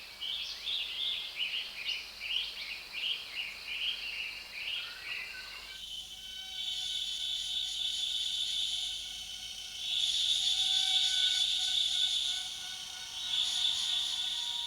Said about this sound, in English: The shrilling of cicadas marks the end of the day.